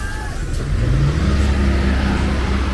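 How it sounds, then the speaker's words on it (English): A bus passes along the seaside promenade road in Puerto del Carmen, Lanzarote. Its low engine rumble is steady and fairly loud close by, over outdoor street ambience. "another bus."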